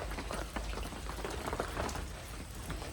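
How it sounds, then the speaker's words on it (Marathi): Sudden rain pours down beside a village house during ploughing work, a dense continuous patter with scattered sharper drops, close and fairly loud throughout, no voices. "तर मित्रांनो अचानक आलाय पाऊस"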